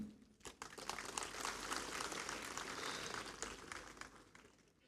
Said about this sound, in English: A big round of applause to yourself